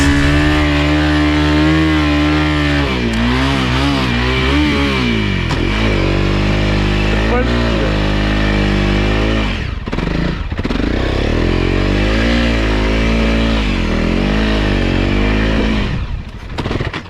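Honda CRF300L motorcycle engine riding through beach sand, loud and close throughout, the revs rising and falling with strong throttle surges and brief dips.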